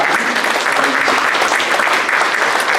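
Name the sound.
congregation applause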